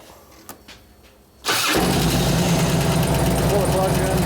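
A 2004 Harley-Davidson FLHT Twin Cam 88 touring motorcycle, just back from a cam chain tensioner bearing repair, cranks briefly and fires up. It settles into a loud, steady idle close by after a few faint clicks.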